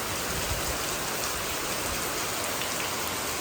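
Steady rain falling and pattering on surfaces at a Thai roadside food stall during a storm, a dense continuous hiss with no voices.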